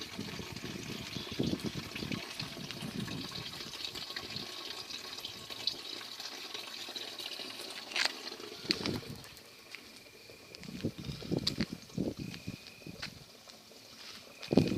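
Water trickles and splashes quietly into a container at night at a weak-flowing spring source, faint and close, with scattered clicks and a brief louder gush near the end.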